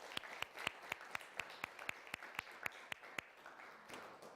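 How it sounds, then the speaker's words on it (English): Audience applause at a court of appeals candidate forum: a modest, thin round of clapping with distinct individual claps in an uneven rhythm, fading out by the end. "So let's go ahead and give a round of applause to those."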